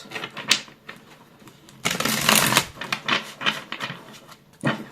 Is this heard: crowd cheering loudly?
no